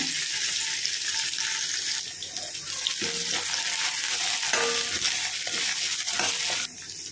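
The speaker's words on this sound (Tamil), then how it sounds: "அது கூடவே அடிபாகத்தில் இருக்க இந்த வெங்காயத்தால் சேர்த்துக்கங்க. நல்லா வதங்கி வரட்டுங்க." Spring onion bulbs sauté in a pan for sambar, giving a soft continuous sizzle with occasional scraping stirs and clinks, heard close without talk.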